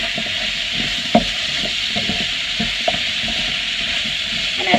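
Onion and red pepper cooking in a pan give off a steady, soft sizzle, with occasional light scrapes and taps from stirring.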